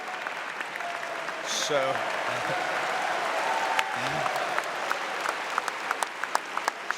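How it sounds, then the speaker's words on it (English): School assembly audience breaking into broad, steady applause from a large group, moderately distant, under a voice that speaks briefly, with a few sharper individual claps standing out toward the end. "a cheap way to get applause"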